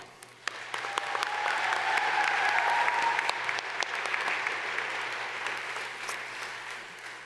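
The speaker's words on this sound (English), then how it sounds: "Let's give them a big clap." A crowd at a university convocation ceremony claps for the families and supporters of the graduates. The steady applause starts quickly, holds for several seconds and then slowly fades, with a few sharper claps standing out near the mic.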